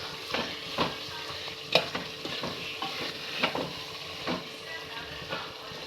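Food being stirred in a pan with a bit too much oil, a steady sizzle and frying hiss broken by repeated sharp scrapes and clinks of the spoon against the pan, close and moderately loud.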